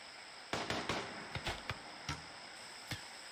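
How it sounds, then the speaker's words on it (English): Bow and SMG shots in RimWorld: a scattered handful of short, sharp cracks, about eight of them, moderately loud over a faint steady hiss. "Allie shoots him first with the bow."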